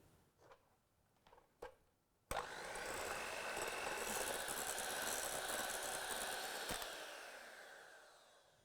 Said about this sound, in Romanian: voi bate foarte bine albușurile până când voi obține o spumă tare ca la bezea